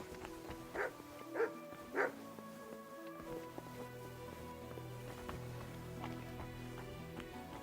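A dog in Kingdom Come: Deliverance gives three quick barks near the start, each fairly faint and spaced apart, set against quiet ambient game sound.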